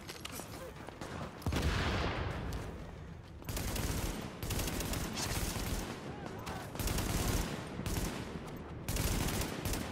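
Gunfire in The Division beta arrives as steady, moderately loud bursts of automatic shooting in repeated waves with short gaps, and a player talks over the fighting.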